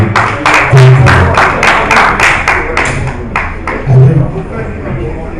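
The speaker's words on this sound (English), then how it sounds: "Please, a round of applause for him." A conference audience at the Mortgage Banking Association of Nigeria gathering applauds, a crowd of hands clapping in bright, fairly rhythmic bursts that gradually fade, with a speaker's voice over the clapping.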